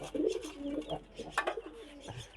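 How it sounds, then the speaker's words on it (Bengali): Several pairs of pigeons coo in soft, repeated throaty phrases, close by and moderately loud, with light rustling between calls. "কবুতর বেশ কয়েক জোড়া আছে এখানে"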